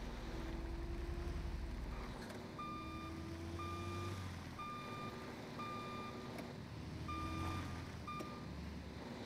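Reversing bus in GTA 5 sounds a steady series of loud electronic backup beeps over a low diesel engine rumble, with air-brake hiss and vehicle noise around it.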